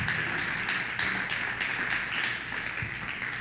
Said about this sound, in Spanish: ¿Cuántos le dan un aplauso al Señor por la palabra?